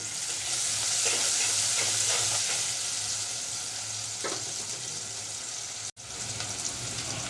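Onion and garlic sizzle and fry in oil in a rural village kitchen, a steady close hiss with occasional stirring scrapes and one brief dropout near the end.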